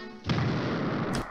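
A cartoon firework goes off in a Tom and Jerry short: one broad, roaring blast that starts abruptly, holds loud and full for about a second, then cuts off.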